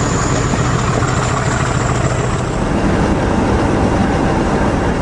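A heavy Class 50 diesel locomotive thunders past up close at a level crossing on the Severn Valley Railway, a loud steady roar of engine and rolling stock with no pause throughout.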